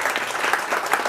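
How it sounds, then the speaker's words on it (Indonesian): A church congregation cheers and applauds for God, a dense, continuous wash of clapping filling the whole short moment. "Berikan sorak-sorai buat Tuhan."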